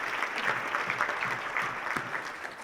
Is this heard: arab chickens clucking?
no